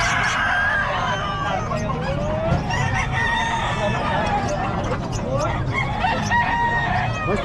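Roosters crow repeatedly among other chickens clucking, with a crowd of voices chattering in the background throughout.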